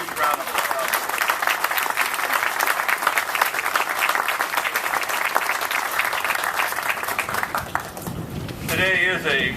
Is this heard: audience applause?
yes